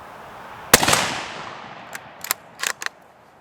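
Sharp single rifle shot from a Ruger American Scout fired at steel plates outdoors, with a decaying echo followed by several fainter distant cracks and pings, no talk.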